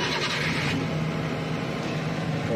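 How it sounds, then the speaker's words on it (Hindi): Maruti Suzuki Super Carry engine running steadily on CNG just after starting, a continuous close mid-pitched idle hum with no voices. "गाड़ी को स्टार्ट कर लेंगे।"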